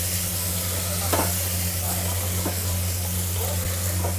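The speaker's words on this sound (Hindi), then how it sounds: "इन सबको अच्छे से मिक्स कर देंगे।" Potatoes and spices, including Kashmiri red chili, sizzle in a hot pan while being stirred, a steady hiss with occasional scraping clicks of a spoon over a low electrical hum.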